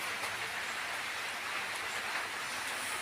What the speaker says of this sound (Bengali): আজকে প্রচণ্ড বাইরে বৃষ্টি